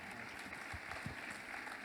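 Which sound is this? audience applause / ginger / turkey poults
audience applause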